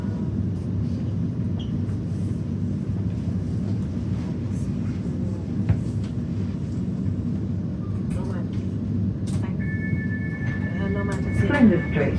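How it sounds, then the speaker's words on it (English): A train ride on Melbourne's Pakenham line, with a steady low rumble of the carriage running continuously and brief higher tones and clicks near the end. "welcome to the Pakenham train line"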